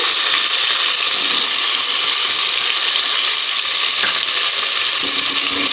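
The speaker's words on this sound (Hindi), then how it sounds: "अब हम इसमें अदरक लहसुन का पेस्ट डालेंगे" Ginger garlic paste frying in a pan for kala chana pulao, a steady loud sizzling hiss that continues without pause, no voices over it.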